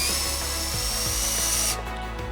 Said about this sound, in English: Center the vertical mounting foot in the recess up here on the top of the gunnel, and I'm going to thread it in